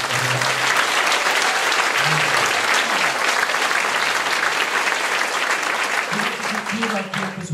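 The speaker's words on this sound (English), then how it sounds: "Let's give them a round of applause." Sustained loud applause from an audience at a camp show at Camp Tecumseh fills the clip, dense clapping with a few voices briefly audible underneath, tapering slightly at the end.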